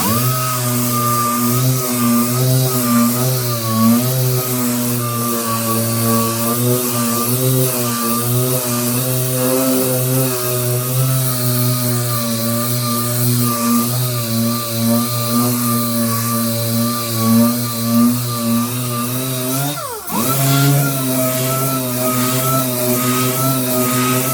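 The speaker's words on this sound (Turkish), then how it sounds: "şimdi 80 zımparayla alacağız" A continuous loud mechanical whine with a buzzing motor tone runs steadily, briefly dipping near the end before resuming, as a power sander with 80 grit sandpaper grinds cracked putty.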